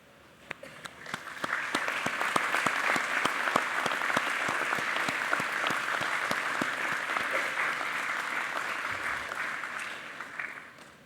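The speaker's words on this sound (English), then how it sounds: "join me in giving them a warm round of" Graduates at an Engineering and Information Sciences faculty ceremony applaud their supporters: a large crowd's sustained clapping swells quickly, holds steady and thick for about ten seconds, then thins toward the end.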